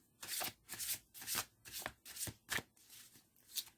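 A deck of oracle cards shuffled by hand: about eight quick, crisp riffling bursts in an uneven rhythm, close and fairly quiet, with no voices.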